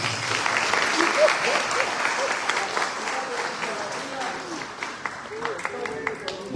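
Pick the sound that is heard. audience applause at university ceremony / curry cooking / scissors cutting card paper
audience applause at university ceremony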